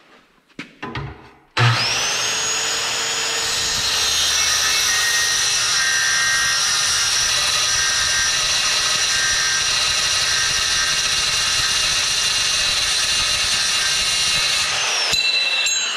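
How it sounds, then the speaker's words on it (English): A cheap pilot-arc plasma cutter slices through a quarter-inch-thick rusty mower blade, starting with a few short bursts and then holding a loud, steady hissing roar for about thirteen seconds before it cuts off abruptly. "You can see how nice it chopped through that 1/4 inch thick mower blade"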